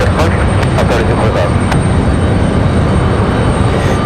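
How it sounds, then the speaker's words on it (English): A JetBlue airliner in retro livery taxiing at Raleigh-Durham International Airport, a loud continuous engine roar and rumble filling the scene steadily from start to finish. "JetBlue actually taxiing out there in a hurry."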